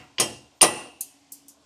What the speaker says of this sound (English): we'll just take a hammer and tap each one off